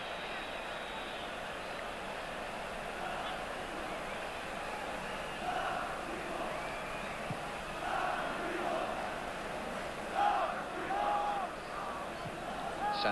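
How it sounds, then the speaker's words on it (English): A football stadium crowd at a Yugoslavia versus England match lets out derisive shouts and jeers, distant and swelling in a few waves beneath steady commentary. "And derisive shouts from the crowd"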